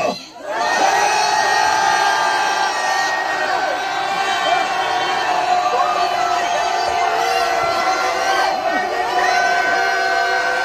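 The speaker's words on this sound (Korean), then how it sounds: "맞서 싸울 자 3초간 함성을 질러주십시오." A large crowd at a university rally in Seoul roars and shouts together in a sustained, loud cheer with many overlapping voices, holding steady for several seconds at close range.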